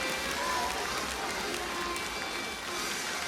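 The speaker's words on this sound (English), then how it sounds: "Campbell Wright wants to hear the crowd even louder." A biathlon crowd in Stockholm's Olympic Stadium makes a continuous broad roar of cheering and applause, fairly distant and even in level, with no distinct voices standing out.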